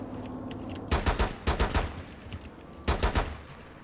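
Bursts of automatic rifle fire in Rainbow Six Siege on the Dostoyevsky Cafe hostage map, two loud rapid volleys of about five shots each, close up, no talk.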